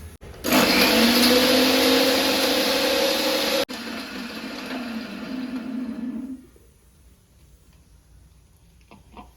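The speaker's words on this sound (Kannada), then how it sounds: "ಮಿಕ್ಸರ್ನಲ್ಲಿ ಬ ಒಂದು ಸಲ ಗ್ರೈಂಡ್ ಮಾಡ್ಕೊಳ್ಬೇಕು" A mixer grinder grinding coconut with salt whirs loudly for a few seconds, briefly cuts out, then runs again at lower pitch before stopping, leaving near silence.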